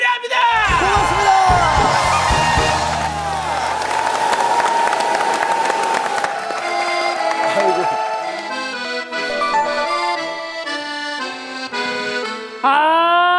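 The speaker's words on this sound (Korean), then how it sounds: "도전하는 아름다운 청년 이정수 씨에게 여러분의 응원의 박수가 필요합니다." Loud studio audience applause and cheering on a Korean Saturday variety show, with whoops and yells over dense clapping that rises and swells, backed by bright musical tones near the end.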